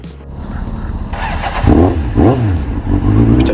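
A motorcycle engine revs and rises in pitch while riding close by on a village road near the Nürburgring Nordschleife, with loud wind rush and shifting engine tone throughout.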